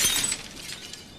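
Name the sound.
glass coffee table shattering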